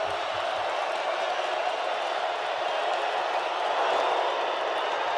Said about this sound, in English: And now here comes this crowd on 3rd and 13.